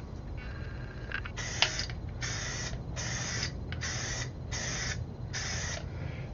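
An aerosol spray can primes miniature wargaming figures in a run of six or seven short, even hissing bursts. A faint click sounds between them, and a steady low hum runs underneath.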